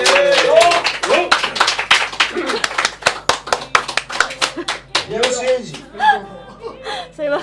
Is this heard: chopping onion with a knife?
no